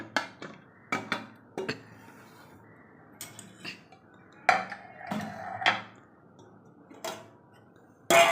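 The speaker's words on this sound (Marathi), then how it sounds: "तर कुकर थंड झालेला आहे आता मी कुकरचं झाकण उघडते" Metallic clinks and taps as the lid of a pressure cooker holding cooked colocasia leaves is worked open, a series of sharp, separate knocks close by in an otherwise quiet kitchen, with no talk.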